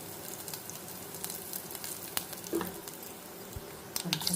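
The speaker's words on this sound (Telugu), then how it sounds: "కరివేపాకు పోపు అయితే వేగింది" Mustard seeds, dried red chili and curry leaves sizzling in hot oil for a tempering, a soft steady fry with scattered small pops and crackles close by.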